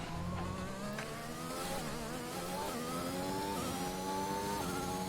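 An F1 car's engine on a lap in the racing game F1 2021, a continuous high-pitched whine rising and falling through gear changes, steady and moderately quiet with no talk.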